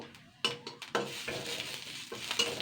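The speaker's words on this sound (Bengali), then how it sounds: "থেতো করা পাঁচফোড়নটা দিয়ে দেবো হালকা দু মিনিট নাড়াচাড়া করে নেব" Crushed panch phoron spices frying in a pan and being stirred, a soft sizzle broken by several sharp scraping and clinking strokes of a spoon against the pan, close and fairly quiet.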